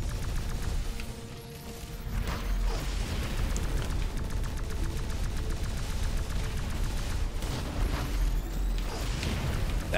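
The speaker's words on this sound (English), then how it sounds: "That was a nice explosion right there." Dense, continuous roar of battle in the video game X-Morph: Defense, with booming blasts and crackling explosions layered over a constant low rumble, loud throughout with no talk.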